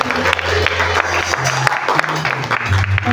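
Applause from an audience at a Christmas youth praise and worship gathering, with steady crowd clapping running throughout and voices and low sound mixed in underneath.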